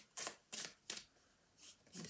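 Someone shuffles a deck of cards in soft, quick riffles, about five short papery bursts in an uneven rhythm. It is quiet and close, with no talking.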